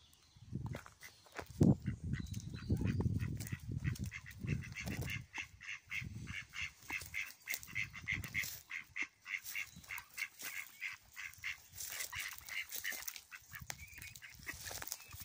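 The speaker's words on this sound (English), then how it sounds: "These ducks are literally 2 feet away from me." Ducks at Wortley Hall quack and honk very close by in a busy, continuous chorus, with occasional footsteps and rustling underneath and no talking.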